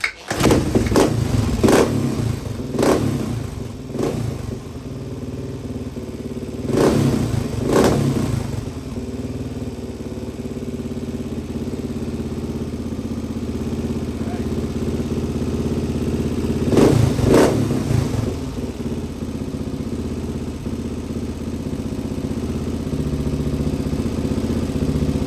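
A freshly built HRC XR628R motorcycle engine, hot after a warm-up, fires up and runs steadily close by, with a few sharp throttle blips over the even idle.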